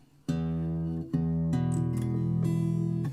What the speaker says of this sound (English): So it sounds like this totally acoustically.